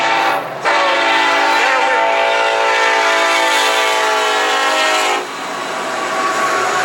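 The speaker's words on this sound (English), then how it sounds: "the train is about to pass by" A passing train sounds a loud, sustained horn for several seconds over the heavy rumble of railcars, the blast cutting off before the wheels' clatter fades slightly.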